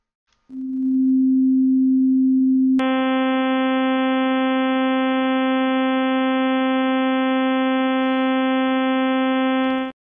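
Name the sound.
sine wave tone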